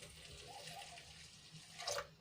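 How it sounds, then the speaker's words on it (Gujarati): Water pours into a pot holding soap powder, salt and vinegar for a homemade dishwashing soap, a soft, quiet splashing trickle that swells briefly near the end. "હવે એમાં આપણે થોડુંક પાણી એડ કરીશું"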